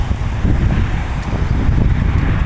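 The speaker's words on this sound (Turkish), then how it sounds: "Bu saatlerde rüzgar çıkmaya başlıyor." Strong wind buffets the microphone in steady low gusts, a continuous rumbling roar with no voices.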